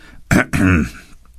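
A short throat clearing, two harsh voiced bursts close to the mic, followed by quiet.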